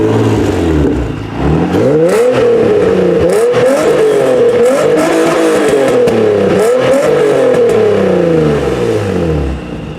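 A Nissan 350Z engine with test pipes and a resonator revs hard repeatedly, rising and falling in pitch with a loud, throaty exhaust roar and some pops, no talking.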